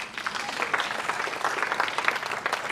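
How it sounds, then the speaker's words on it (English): Conference audience applause, a soft, distant wash of many hands clapping continuously without a clear break. "can we give a clap?"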